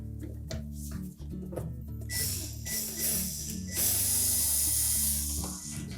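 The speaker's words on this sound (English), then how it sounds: "we're ready to reinstall the two screws" Screws are driven back into the cabinet of a Whirlpool washer during a cabinet retaining clip repair, close ratcheting and whirring tool bursts with metallic clicks, growing louder toward the end.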